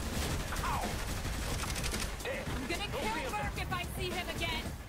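Gunfire in Saints Row the Third, a dense, steady stream of game shots and clatter with mechanical effects, heard under overlapping voices throughout.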